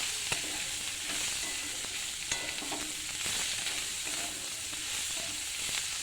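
Onions salted and frying in a pan crackle with a steady, even sizzle, punctuated by occasional sharp stirring clicks, close and continuous with no talk.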